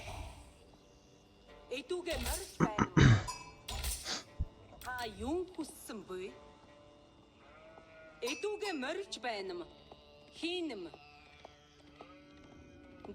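Sheep bleat repeatedly in the Age of Empires 4 video game, several wavering cries close together among soft game sounds, with a voice talking now and then.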